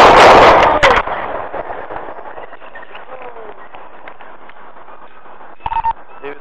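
Police gunshots fired at a knife-wielding subject: a loud cluster of sharp reports right at the start, then a fading echo and low background noise, with a brief clatter near the end.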